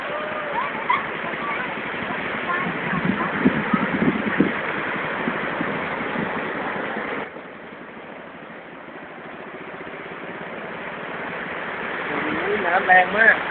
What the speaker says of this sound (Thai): น้ำแรงมาก